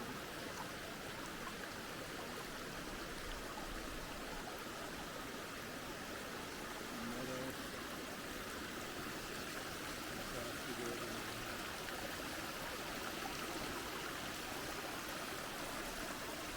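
Water runs along a forested stretch of the John Muir Trail at about 9,000 feet, giving a steady, soft, hissing flow that continues unbroken and fairly quiet, with no other sounds standing out.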